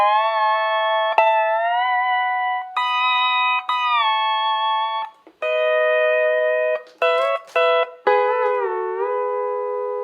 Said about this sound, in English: and that's the fill at the 1 minute and 12 second mark.